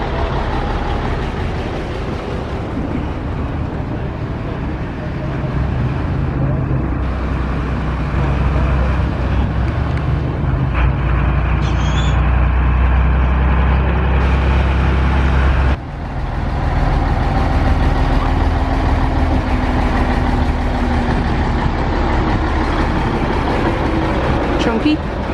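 A Scania lorry arriving and settling into a steady diesel idle at a classic lorry gathering: a continuous low engine rumble with a deep throb, fairly close and loud throughout, with voices and outdoor chatter in the background.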